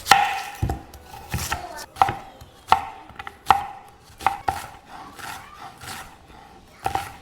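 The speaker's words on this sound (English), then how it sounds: "Chop up some onion." Onion being chopped with a knife on a cutting board, about ten sharp, distinct chops at an irregular pace, close and clear, with a quiet gap between strokes and no talking.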